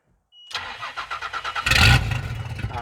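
A starter motor cranks in a quick rhythmic churn, then the engine briefly fires with a louder burst before sputtering back to cranking.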